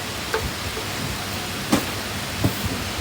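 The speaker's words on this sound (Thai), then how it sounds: "ยังไม่หยุดเลยฝน ฝนยังไม่หยุดเลยอะ่ะ" Steady rain falls during the rainy season, a constant dense hiss close by with a few faint knocks and no talk.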